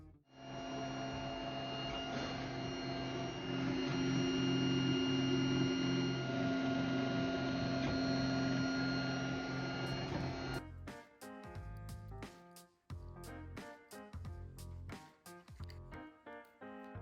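3D printer printing a downloaded case, a steady close mechanical hum with stepper motor tones for about ten seconds, then giving way to choppy, stuttering motor chirps and buzzes as the print head moves in short bursts.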